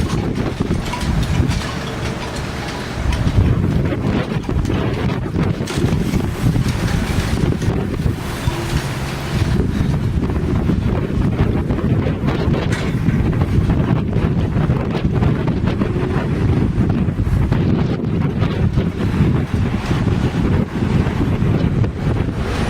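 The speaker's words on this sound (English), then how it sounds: "And it is windy." High winds gust steadily during a massive thunderstorm with blowing dust, a loud continuous roar and buffeting rumble across the whole stretch, with no speech.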